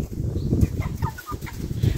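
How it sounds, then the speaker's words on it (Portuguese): Young chickens cluck and peep close by in a farm setting, with short scattered calls over a steady low background rumble and no talk. "Mostrando os frangos"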